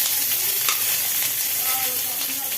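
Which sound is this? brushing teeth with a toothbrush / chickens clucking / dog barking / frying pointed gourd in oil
frying pointed gourd in oil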